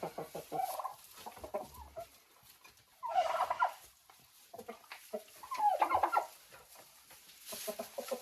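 Turkeys and chickens gobble and cluck in a nesting area, with several loud bursts of calls over ongoing softer clucking close by.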